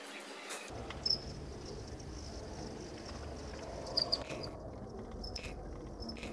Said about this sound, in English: Baby crickets.